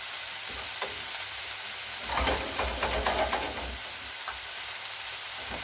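Leeks and mushrooms frying in a pan for a tartiflette tart with reblochon, a steady close sizzle and hiss with a louder burst of stirring and crackle in the middle, no voices.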